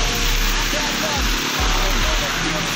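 A dense, steady roar of heavy rain falling in Multan fills the whole stretch, like a downpour, with low vehicle rumbles passing underneath.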